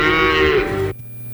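A cow moos in a cattle pasture: a single loud, drawn-out bellow of just under a second, close to the microphone, that cuts off abruptly into quiet.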